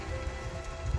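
Rainwater leaking through a roof during a downpour, a dense patter of drops on a surface mixed with heavier plops, continuous and close, with no talking.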